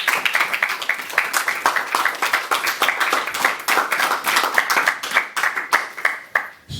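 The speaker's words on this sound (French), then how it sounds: "Acclamons ce frère pour Jésus-Christ." A church congregation at a Paris worship service applauding, a dense run of claps that continues steadily for several seconds before tapering, with faint voices mixed in.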